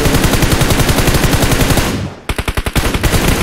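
Loud rapid automatic gunfire in the mobile shooter PUBG Mobile on the Erangel map, one long continuous burst followed after a short pause by a quicker series of sharp shots.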